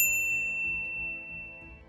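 A single bright notification bell ding rings out clearly at the start, then its tone fades away over about two seconds.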